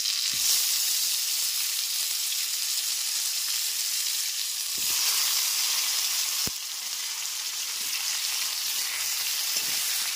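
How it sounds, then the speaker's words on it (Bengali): Potato pieces coated in salt and turmeric frying in hot oil over a medium flame, a steady close sizzle and crackle with occasional soft knocks of stirring, no voices. "এতে লবণ আর হলুদ গুঁড়ো মাখিয়ে তারপর ভেজে নিচ্ছি।"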